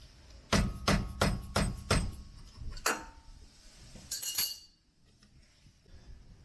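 Several quick metallic taps ring out close by as a tie rod is tightened on a 2007-2013 Chevrolet Silverado, a burst of five sharp hits followed by a couple of fainter clinks in a quiet garage.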